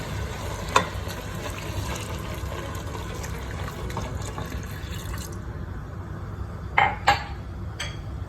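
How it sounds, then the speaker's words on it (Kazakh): Water poured from a cup into a pot of rice for plov, a steady splashing pour that stops partway, followed by a couple of sharp clinks and drips, close by. "одан кейін 1 стакан суымызды құямыз"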